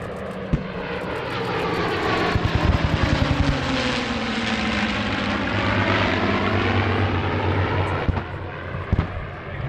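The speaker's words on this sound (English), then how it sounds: "the P-51 Mustang, here performing a formation pass with a Bearcat" A P-51 Mustang and a Bearcat, piston propeller fighters, make a formation pass at EAA AirVenture Oshkosh 2023, a loud throbbing engine roar that swells and sweeps past as the pitch bends down, with a few sharp clicks.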